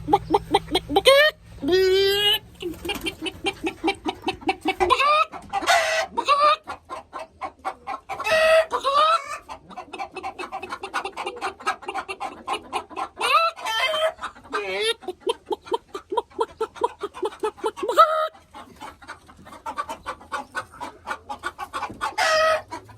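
Chickens cluck repeatedly at close range in busy, overlapping bursts, with occasional louder squawks and a rooster-like call.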